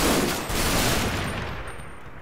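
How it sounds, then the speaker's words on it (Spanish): Dense gunfire erupts in the World War II wargame Combat Mission Battle for Italy, a loud continuous burst of overlapping shots that starts at full strength and slowly tapers off over about two seconds. "Uf, que ha habido disparos..."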